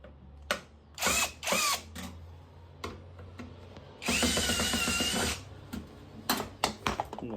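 Power drill backing screws out of an Arçelik Beko Altus dishwasher, several loud whirring bursts of varying length separated by short pauses and small clicks, close by with no talking.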